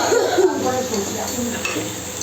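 Fish curry masala with mustard and turmeric being stir-fried in a pan, a soft sizzle under scraping stirring and a few light utensil clinks.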